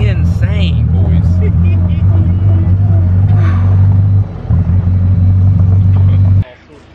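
A deep, loud EXO Cart EVO engine rumbles steadily up close, dips briefly, then cuts off near the end, with people talking over it.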